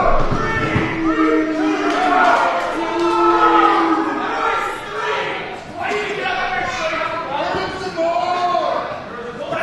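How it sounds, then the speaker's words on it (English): Wrestling crowd at a Spokane Anarchy Wrestling Halloween show rumbles and jeers throughout, a steady wash of voices swelling and dipping under continuous commentary. "The crowd does not like the referee's slow count"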